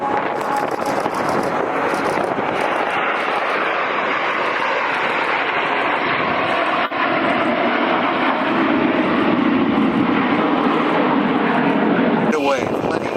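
Frecce Tricolori jets looping at the 2024 Quinte Airshow produce a loud, continuous roar that swells gradually, with wind buffeting the microphone throughout.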